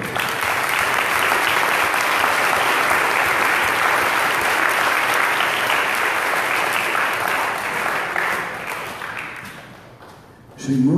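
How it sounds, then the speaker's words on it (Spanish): Church congregation giving loud, sustained applause during a service, a dense crowd clapping that holds strong for about nine seconds with voices mixed in, then fades out before a sudden loud burst at the end. "Den un aplauso fuerte a Cristo."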